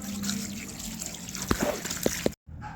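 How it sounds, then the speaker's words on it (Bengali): Water running and splashing over raw chicken meat being washed for a Bengali chicken kosha, a soft steady trickle with a few small knocks, quiet and close, ending in abrupt silence. "এরপর মাংসটাকে আমি ভালো করে ধুয়ে নিচ্ছি"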